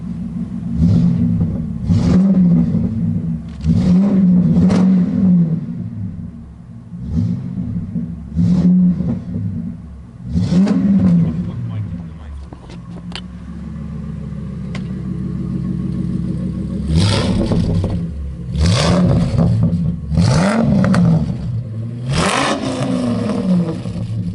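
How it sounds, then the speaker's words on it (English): A Ford super-dually V10 truck engine revved repeatedly through a deep exhaust, each rev a loud rising roar dropping back to a rumbling idle, several bursts in close succession. "around the back, we'll listen to the exhaust for a second."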